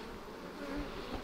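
Honey bees swarm around a hive colony of about ten thousand, making a dense, continuous buzzing drone that stays steady and close for a brief moment.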